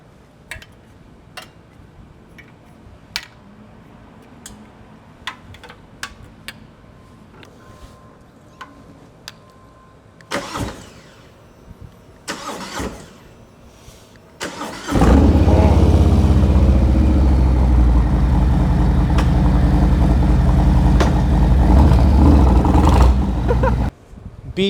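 A Harley Davidson Lowrider S motorcycle sits through scattered ticks and clicks before its cold start, then the engine fires and holds a loud, deep, steady rumbling idle that runs to the end.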